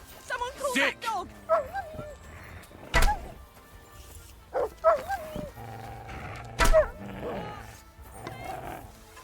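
In Kingdom Come: Deliverance 2, a dog gives a handful of short, punchy barks spaced a second or two apart, mixed with thuds and in-game voices speaking nearby.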